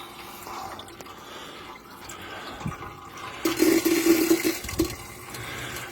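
Old fluid drains from an MGF's system in a soft trickling run that swells into a louder gurgling splash midway and then eases off, with faint drips around it.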